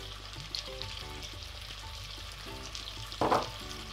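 Onion and garlic fry in melted butter in a large saucepan for leek and potato soup, giving a steady close sizzle with a louder burst of crackle near the end.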